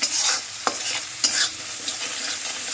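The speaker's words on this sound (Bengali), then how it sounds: "যেহেতু এটাতে সর্ষে পোস্ত আছে, সেহেতু মশলাটা কিন্তু আমি বেশি ভাজবো না, একটু হালকা তেলের মধ্যে নেড়ে নিয়ে আমি জল দিয়ে দেবো" Mustard and poppy seed masala being stirred in a little hot oil, a spatula scraping the pan with a few sharp knocks over a soft continuous sizzle, close and clear.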